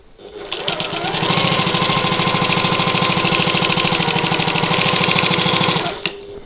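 A sewing machine bastes a panel of a button lock bag at regular stitch length, running in one steady rapid stitching stretch of several seconds, close and loud, with quiet starts and stops at either end.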